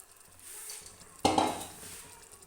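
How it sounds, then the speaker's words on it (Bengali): Marinated chicken tipped into a hot pan with fried tomato, onion and capsicum for a masala curry, giving a sudden loud sizzle midway that settles into steady frying and stirring. "এবার এতে দিয়ে দিচ্ছি আমি ম্যারিনেট করে রাখা চিকেনটা, দিয়ে ভালো করে কষে নেব"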